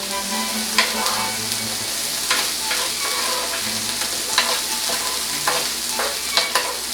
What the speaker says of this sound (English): I'm gonna kind of move my beans around.